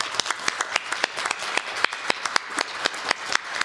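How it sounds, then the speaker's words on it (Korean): Audience at a university Won Buddhist temple lecture gives a hearty round of applause, steady overlapping claps of moderate loudness with a few sharper individual claps standing out, no talking over it. "여러분 힘찬 박수로 인사 나누시겠습니다"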